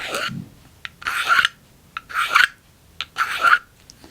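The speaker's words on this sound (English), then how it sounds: "This is a Speedy Sharp. Really nice system for sharpening knives." A Speedy Sharp solid carbide sharpener scrapes along a knife blade in four distinct rasping strokes, close and crisp, each followed by a short pause.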